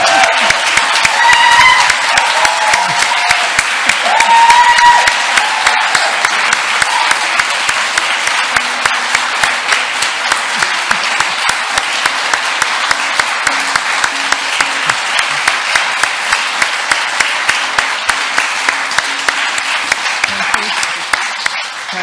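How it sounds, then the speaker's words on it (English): Audience at a book launch giving a long round of applause, dense steady clapping that fills the room, loud and sustained, with some voices and cheers near the start. "I'd just like to ask you to launch this magnificent book with a really good round of applause for Louise, because she really deserves it."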